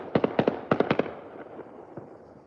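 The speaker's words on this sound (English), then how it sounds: "at least we're seeing some fireworks over here" New Year's Eve fireworks pop outside in a quick cluster of sharp bangs, then fade into fainter scattered reports at middle distance.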